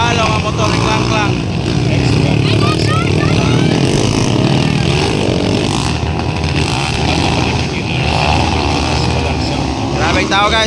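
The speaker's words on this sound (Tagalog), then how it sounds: "Namalo ang motor ni Klang." Motorcycle engines, underbone bikes at a motocross race track, drone loudly and continuously amid a noisy, crowded scene with people shouting and talking over the roar.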